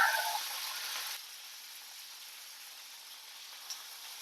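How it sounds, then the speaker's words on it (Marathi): Green chillies fry in oil on a hot tawa with a soft, crackling sizzle. It is brighter for the first second, then settles into a faint, steady fizz. "मिरच्या आपण फक्त तळून घ्यायच्या"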